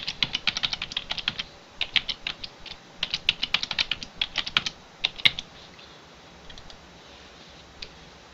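Keys on a computer keyboard clatter in quick, irregular bursts while a password is typed, with short pauses between runs and a few isolated taps near the end, close and fairly clear with no voice.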